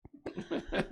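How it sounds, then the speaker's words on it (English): A person sick with a virus coughs in several short, rough, close bursts, with a faint laugh-like catch between them. "I can't laugh because once I do, I start coughing."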